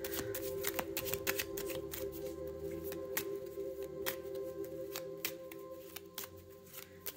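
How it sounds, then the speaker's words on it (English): Tarot cards are shuffled by hand in a quiet room, giving repeated crisp riffling snaps and soft slides in an uneven rhythm, close and clear with a faint steady hum behind. "having to be very patient with the shuffle"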